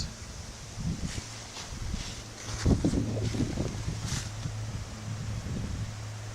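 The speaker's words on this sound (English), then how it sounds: "you can see it's pretty windy out here right now" Steady wind noise buffets the microphone with low rumbling gusts and a faint rustle, rising and falling over several seconds outdoors.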